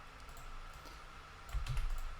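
Typing LaTeX on a computer keyboard, a soft, quiet patter of key presses under a steady background hiss, with a slightly louder cluster of keystrokes near the end.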